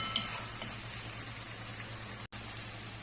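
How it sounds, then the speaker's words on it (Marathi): Jackfruit and raw mango pieces for pickle fry in oil over medium heat, giving a soft steady sizzle with a few faint crackles and a brief dropout. "म्हणून मी हे तेलामध्ये छान तळून घेणार आहे"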